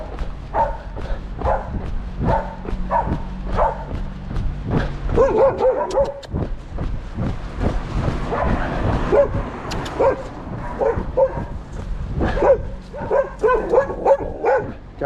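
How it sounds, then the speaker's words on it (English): A guard dog on a street in Florence barks and yips repeatedly at close range, loud aggressive bursts coming in quick clusters with brief pauses, some whimpering between them. "Guard dog doing its job."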